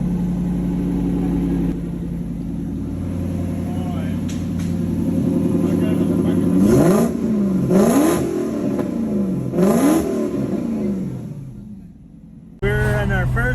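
A Lexus SC400 engine, swapped to a manual with a makeshift shifter and with exhaust leaks, revs up repeatedly in several rising surges, droning steadily between pulls, heard close from inside the vehicle.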